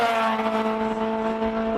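A rotary-engine classic car revs hard at a Cape Town classic car meet, a steady high-pitched engine whine holding strong and close throughout with no talk.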